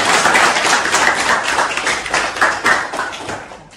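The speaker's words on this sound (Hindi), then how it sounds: "एक बार इनके लिए ताली बजा दीजिए फिरोज सर" A studio audience claps steadily for a student at a telecom repair training institute, a dense sustained patter of many hands, fairly close and loud, tapering slightly toward the end with no talk over it.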